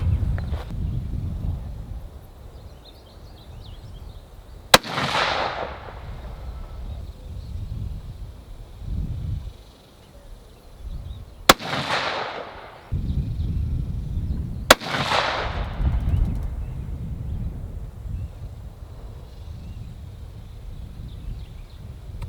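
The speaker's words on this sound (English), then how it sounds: "first up, we have the Hornady match ammunition. We're gonna go 3 rounds, a 3-round group, top left corner of the targets" Three rifle shots from a Savage Ultralight in 6.5 PRC firing Hornady match ammunition at a range, each a sharp loud crack with a decaying tail, spaced several seconds apart over low wind and background rumble.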